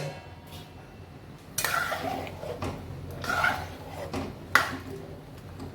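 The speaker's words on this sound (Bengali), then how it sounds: "তো এবার সব সবজিগুলো ঢেলে দেবো" Chopped vegetables and green chilli tumble into a pot of half-cooked dal with a few soft splashing clatters, followed by light scraping and utensil knocks against the pot at close range.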